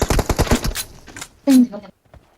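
Rapid machine-gun bursts from a video game firefight: a quick string of loud shots in the first second, then scattered single shots and a heavier blast, with excited voices shouting over the action.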